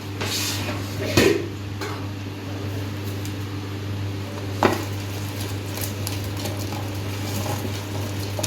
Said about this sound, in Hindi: अब हम कड़ी में पकौड़े डालेंगे